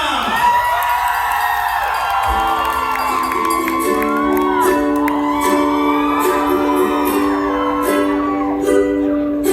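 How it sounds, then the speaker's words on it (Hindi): A crowd cheers, whoops and shrieks to welcome actress Hania Amir at a Chicago event; the roar is loud and continuous, with high excited shouts rising over a steady wall of audience noise. "So please जोरदार तालियों से let's welcome हानिया."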